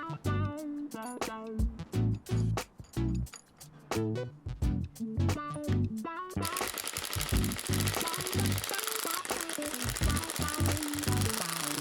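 Spring compressor clamps being tightened on a strut spring from a 2004 BMW 330i ZHP, rapid rattling bursts of an impact tool in repeated short runs, then a longer continuous buzzing stretch, close and loud.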